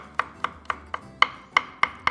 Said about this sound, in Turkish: Ezdikten sonra Tekrardan ince ince doğrayalım.